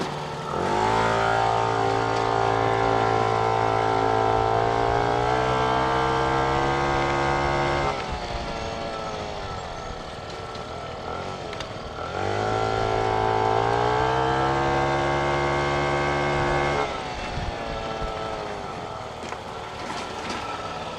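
A vehicle towing a trailer drives up a driveway and back, its engine note rising and falling in two long, loud revving passes with steady harmonic drone.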